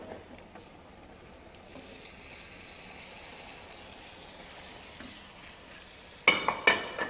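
Tomato and sweet paprika sizzle in a small frying pan, a steady even crackle that fills the whole stretch, with a few sharper stirring clinks and scrapes near the end.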